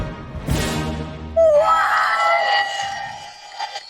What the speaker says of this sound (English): The crowd is on their feet. They're going crazy.